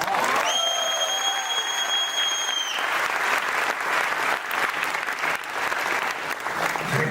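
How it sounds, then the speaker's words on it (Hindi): A large audience at a motivational speech event in Mumbai breaks into sustained, dense applause. The clapping is loud and continuous, with a brief high whistle-like tone near the start. "थैंक यू सो मच तालियों के लिए।"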